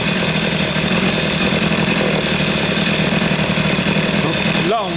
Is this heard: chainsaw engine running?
yes